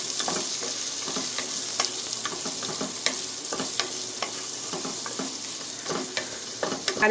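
Large onions sizzle steadily in hot oil for Chettinad mutton kuzhambu while a utensil stirs and scrapes the pan in irregular clicks and taps, close up with no talking.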